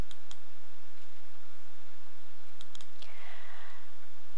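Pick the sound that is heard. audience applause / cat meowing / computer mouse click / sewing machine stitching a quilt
computer mouse click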